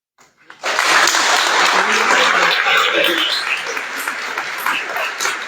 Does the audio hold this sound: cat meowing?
no